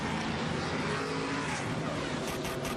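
Race cars at Talladega pulling away from pit road, a dense, steady roar of several engines at moderate distance with no break.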